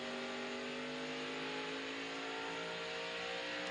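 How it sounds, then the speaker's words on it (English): Race car engine at the 2000 Hardee's 250 revving up as it accelerates out of a corner, a loud steady whine climbing in pitch. "You hear how smooth he is with that throttle as the car comes back up to speed?"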